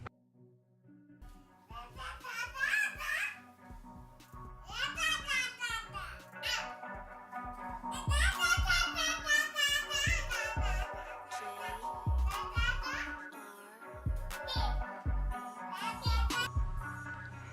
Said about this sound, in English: an infant around like 4 months old just starts spitting out sounds at you